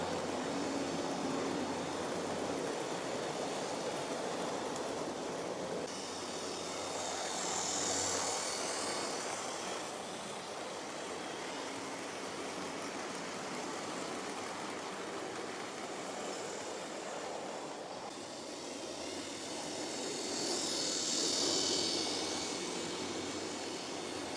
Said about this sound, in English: She's certainly not a quiet runner either. That motor's giving a good strong noise